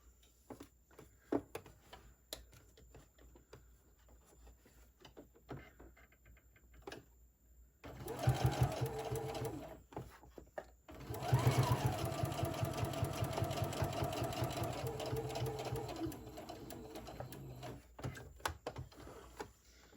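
Sewing machine stitching a boxy pouch with polyester thread at a 2.5 stitch length, starting after a quiet stretch of scattered handling noises with a short run, then a longer steady, loud mechanical whir that stops near the end.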